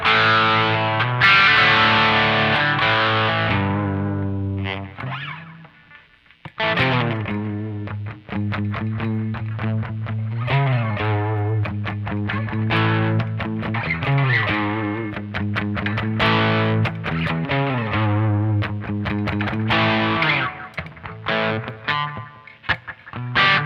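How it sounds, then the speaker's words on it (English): Electric guitar with a light overdrive tone plays chords and melodic phrases, slightly gritty and sustained, loud and close, with a brief pause partway through and no talking. "This is like my light overdrive tone"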